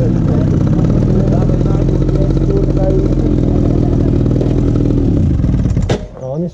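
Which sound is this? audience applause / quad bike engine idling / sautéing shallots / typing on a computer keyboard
quad bike engine idling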